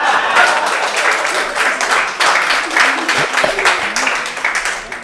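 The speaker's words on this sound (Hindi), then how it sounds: "उसके लिए भी तालियां बजाओ" Clapping from the audience at a Hindi kavi sammelan poetry gathering, a dense rattle of many hands with some voices mixed in, swelling and thinning unevenly over about five seconds.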